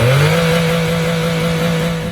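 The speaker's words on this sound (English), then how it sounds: "start the engine and circulate it" A Toyota Aygo city car engine, run on cooking oil instead of engine oil, idles steadily at a constant hum, loud and close, with a slight rise in pitch at the start.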